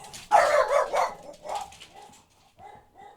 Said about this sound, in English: That's my two dogs going berserk.